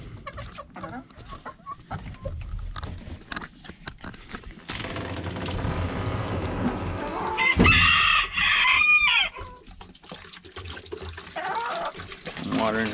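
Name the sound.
chickens clucking and rooster crowing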